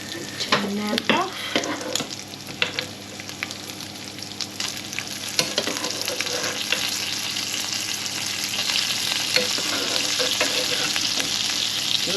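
Green vegetables frying in a pan with bacon, a steady crackling sizzle running throughout with occasional louder pops and the scrape of stirring, close and fairly loud, no talking.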